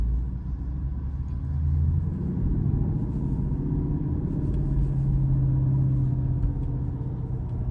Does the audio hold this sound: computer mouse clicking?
no